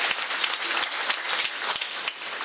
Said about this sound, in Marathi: टाळी वाजवा माझ्या लेकरा करता.